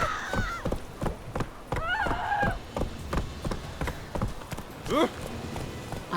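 A horse in The Witcher 3 video game, with clip-clop hoof steps, a whinny and snorting. Several short knocks and a rising neigh come mid-way, close up, over game ambience and occasional speech.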